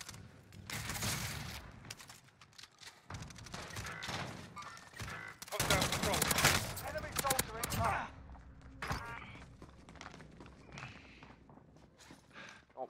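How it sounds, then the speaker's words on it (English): Gunfire in the Warzone battle royale game, with a RAAL LMG in play: dense bursts of shots and impacts crowd the mix, swelling loudest midway, over footstep-like clatter and a player's voice. "Taking direct fire."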